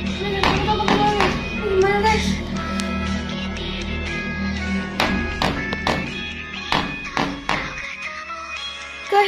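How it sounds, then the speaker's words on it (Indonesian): Several sharp knocks on a door in the middle of the night come in irregular clusters, fairly loud and close, over steady background music. "Ada suara ketok pintu guys."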